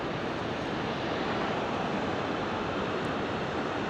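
Steady roaring rush of Yosemite Falls, broadband and continuous, loud and unbroken with no voices.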